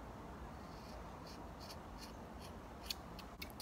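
Scissors snip through hair in a series of quiet, crisp cuts at an at-home haircut, soft and close, over a constant background hiss.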